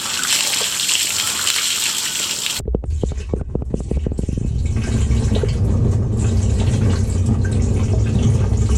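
A full bucket of soapy water dumped over a Frontrunner Wolf Pack storage box, a heavy gush that drops into splashing, then a steady trickle and dribble running off the box.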